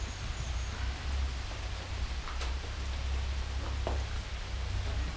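Steady rain falls outdoors during a cycling trip, a dense even hiss of drops on surfaces that continues unbroken throughout, moderately quiet, with a few faint scattered knocks and no talking.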